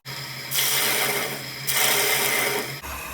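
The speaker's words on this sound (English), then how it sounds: "I'm going to get the bottom feeder to clean it out" Bottom feeder bowl gouge cutting the inside of a spalted apple ogee bowl on a lathe, heard as a steady close-up scraping rasp in two sustained passes over the machine's low hum, with no talk.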